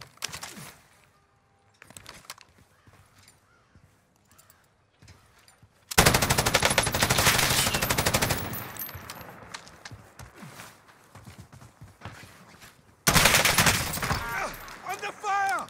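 A Finn LMG fires in a video game: long, dense bursts of rapid machine-gun fire, loud and close, with scattered shorter shots and footsteps between them, and talk mixed in.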